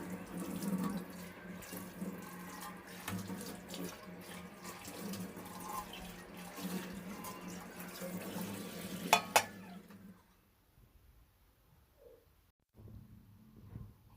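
Water runs steadily from a kitchen tap as dishes are washed and scrubbed with a wire scouring pad, clinking faintly, then the flow stops near the end, leaving a quieter room with a few soft handling sounds.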